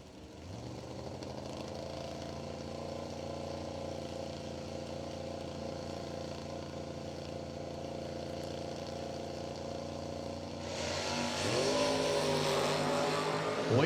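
At a drag strip, a 1993 Mustang and a 1972 Nova sit with engines droning steadily before both launch, bursting into a louder, roaring surge near the end.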